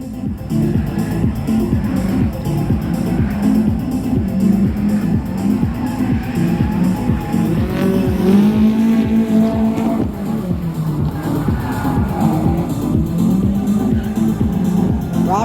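Drift cars run in tandem at the 2024 Drift Indy Top 32 event, a loud continuous engine roar with rising and falling revs and rapid pulsing throughout, sustained for the whole stretch.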